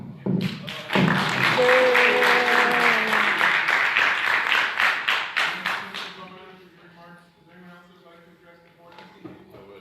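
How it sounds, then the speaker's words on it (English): Applause breaks out at a high school board meeting, a dense burst of clapping for several seconds that thins to scattered claps, with talk over the end. "So I'd like to applaud Mr. Berlin for all he's done for all these years"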